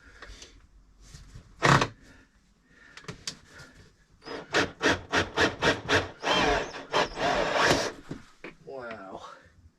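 A cordless drill with its clutch engaged drives bolts and screws into a boat during maintenance, giving a run of short, rapid bursts of whirring and ratcheting close by, with brief talk before and a strained squeal near the end.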